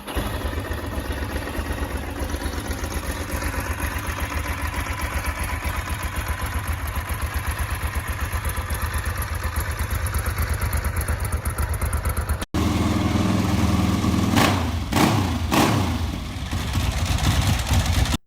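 A Ducati motorcycle fitted with an aftermarket exhaust idles with a loud, lumpy, evenly pulsing beat, then after an abrupt cut, a different stretch with a few sharp throttle blips over the rumble.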